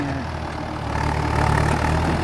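Farm tractor with a modified performance exhaust idling close by, a steady low rumbling drone that swells slightly louder toward the end.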